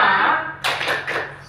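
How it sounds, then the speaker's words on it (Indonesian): Students in a micro-teaching practice class perform a patterned spirit clap. A brief voice is heard first, then three or four sharp clap bursts land close and loud in quick succession. "Tepuk semangat."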